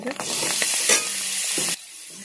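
Potato masala being sautéed and stirred in a hot pan for pav wada, a steady close sizzle with scraping stirs that cuts off abruptly near the end, no talking.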